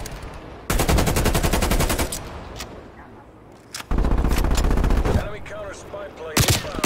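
Rapid automatic gunfire from Call of Duty Cold War rattles in long, dense bursts during a bomb-planting match, broken by short pauses and a few isolated shots, close and loud over faint background chatter.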